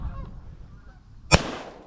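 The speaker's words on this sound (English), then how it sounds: "Oh, the geese getting up. More geese getting up." Geese taking flight during a waterfowl hunt give a single sharp, loud honk that stands out after a stretch of quiet background.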